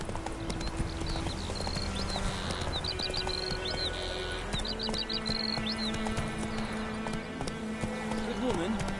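Horse hooves clip-clop steadily on a road in a medieval fantasy setting, mid-loud under a rumbling ambient bed with distant bird chirps and a brief vocal sound near the end.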